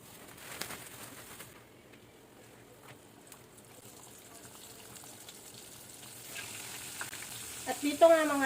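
Hot oil sizzles and crackles steadily at low volume, growing louder and busier near the end as chicken pieces are added to the pan.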